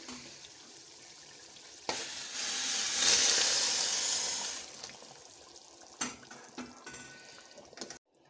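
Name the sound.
boiled water poured into cooking pot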